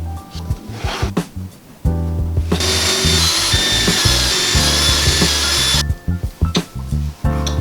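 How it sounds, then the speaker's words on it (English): A power tool countersinks and drives threaded inserts into wood, with scattered knocks and handling noise first, then a sustained loud whirring run for several seconds before stopping to more short taps and clatter. "Countersink all of the speaker point threaded inserts here."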